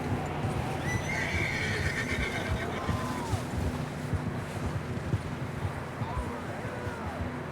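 A horse whinnies loudly over steady clip-clopping hooves in Red Dead Redemption 2, with a wind-like hiss and ambient game sound beneath.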